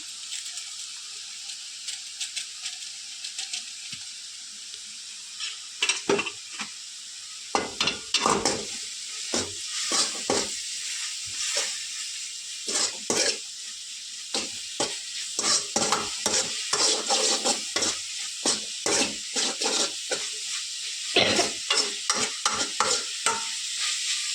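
Chicken noodle masala being stirred in a hot pan, with a steady bright sizzle throughout and repeated scraping strokes of a spoon against the pan that start after a few seconds and continue in quick bursts.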